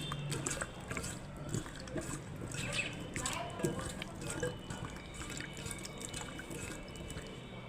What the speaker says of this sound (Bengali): পুঁইশাকের ডাঁটাগুলো আমি এইভাবে কেটে নিয়েছি আর এখন জল দিয়ে আমি ধুয়ে নিচ্ছি